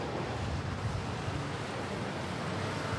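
Steady wind buffets a microphone at Manila airport, a continuous low rumbling roar without breaks, fairly quiet overall and unaccompanied by voices.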